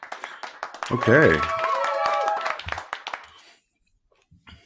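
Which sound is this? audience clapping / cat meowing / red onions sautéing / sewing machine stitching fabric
audience clapping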